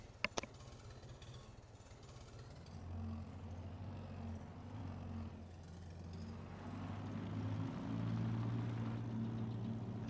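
Steady low tractor engine drone from Farming Simulator 22, rumbling continuously and swelling slightly louder toward the end, with a couple of brief clicks at the start and no talking.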